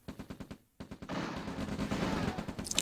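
Light tanks in the real-time strategy game Red Alert open fire on an ore truck: a run of sharp, evenly spaced shots, a brief pause, then a denser, sustained barrage of cannon fire and explosions, loud and close.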